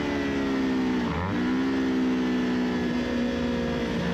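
Race motorcycle on a track during a trackday, engine revving hard through the gears, a loud steady high-pitched whine that dips briefly at a shift then climbs again.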